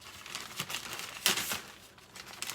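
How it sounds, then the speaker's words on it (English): Plastic bag crinkling in a home kitchen during cake baking, a soft, continuous rustle with a few sharper crackles, quiet and close, no voices. "I just put it in plastic bags"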